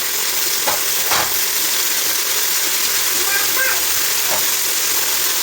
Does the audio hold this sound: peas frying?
yes